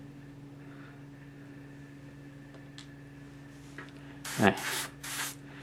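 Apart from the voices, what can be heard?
airbrush spraying paint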